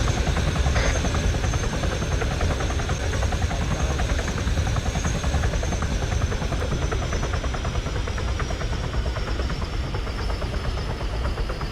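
A helicopter in the Arma 3 military video game drones steadily at close range, its rotor thrum and engine whine holding even and loud throughout with no voices.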